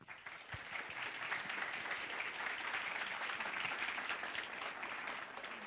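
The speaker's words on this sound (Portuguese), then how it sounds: "Por favor, uma salva de palmas para ele aí." An audience claps steadily and warmly for a speaker at a conference talk, a dense, even applause lasting several seconds with no voices over it.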